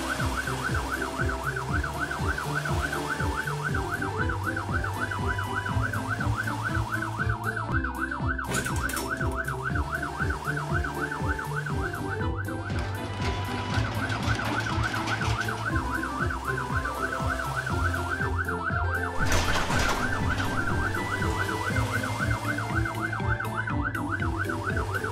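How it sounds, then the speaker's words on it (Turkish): A police car siren in a children's cartoon about helper cars, a steady rising-and-falling wail repeating throughout over bright cartoon music. "Polis arabası devriye gezip her şey yolunda mı diye kontrol ediyor."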